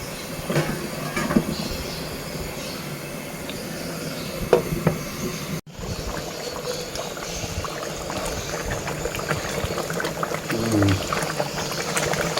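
Beef dum biryani gravy with basmati rice simmers and reduces in a pot, a steady dense bubbling hiss that fills the whole stretch with a brief clunk midway.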